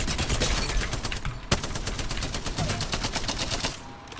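Spitfire light machine gun fitted with a gold magazine in the Apex Legends video game fires a long uninterrupted automatic burst, a dense rapid stream of loud close shots.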